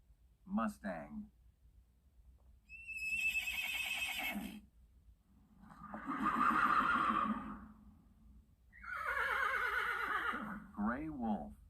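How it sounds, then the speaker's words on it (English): A mustang neighs and whinnies in several long, shrill, quavering calls separated by brief pauses, with short snorting sounds at the start and end, loud and close. "Mustang."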